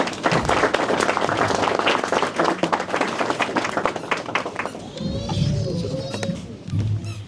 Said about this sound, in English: let's welcome her with a round of applause, ladies and gentlemen